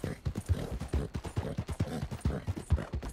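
Horse hooves clop at a steady trotting pace on a dirt path in Red Dead Redemption 2, close and clear, with rhythmic thuds repeating throughout.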